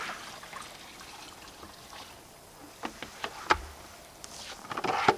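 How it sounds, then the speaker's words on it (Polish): Water pours from a watering can into a container in a polytunnel of a vegetable garden, a quiet trickle with soft splashes and a few sharper knocks toward the end. "tylko wleję wody"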